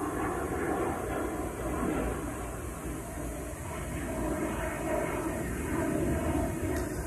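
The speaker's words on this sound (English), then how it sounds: "Hold on, there's a plane." An airplane passes overhead, giving a steady, faint and distant engine drone that fills the whole stretch with no other sounds above it.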